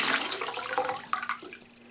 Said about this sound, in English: if it works while the tap's running on top of it